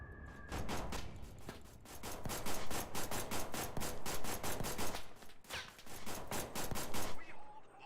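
Rapid gunfire in a shooter video game, dense loud bursts of repeated shots filling most of the clip with brief gaps.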